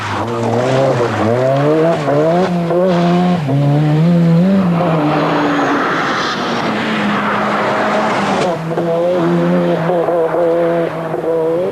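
A Mike Little prepared Ford Sierra Cosworth rally car races on tarmac at the 1989 Circuit of Ireland. Its engine revs loudly and rises through the gears, with a brief rushing lull midway before it pulls hard again.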